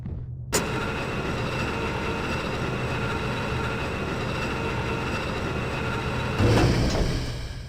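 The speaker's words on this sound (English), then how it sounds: "And here's that freight elevator." A freight elevator in the stealth game Thief: The Dark Project runs with a steady, loud mechanical rumble and rattle that starts abruptly, with a heavier clunk near the end.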